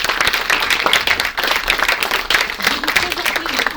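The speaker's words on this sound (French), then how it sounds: "Je pense qu'on peut l'applaudir." Audience applause at a round-table conference on equality and disability, a dense, steady patter of many hands clapping with some voices mixed in throughout.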